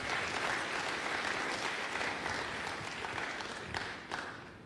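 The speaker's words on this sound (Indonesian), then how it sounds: "Berikan tepuk tangan bagi Tuhan." A church congregation applauds together after the preacher's call, producing dense, steady clapping that fills the room at full strength, tapering slightly toward the end with a few louder individual claps standing out.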